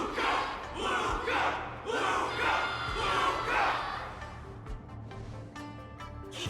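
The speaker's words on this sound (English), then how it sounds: "Can't you hear? Everyone's cheering for you" A crowd in Honkai: Star Rail cheers in several loud, surging waves of massed shouting that swell and fade, then drop to a quieter murmur with scattered thumps.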